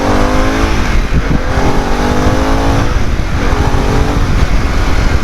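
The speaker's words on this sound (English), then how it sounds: "it has got one hell of an acceleration. It's a fantastic engine, the Revolution Max." A Harley-Davidson Pan America motorcycle with the Revolution Max engine accelerates hard in road mode, a loud, continuous rising engine roar heard up close with heavy wind noise.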